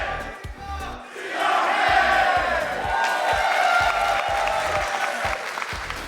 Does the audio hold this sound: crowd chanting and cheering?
yes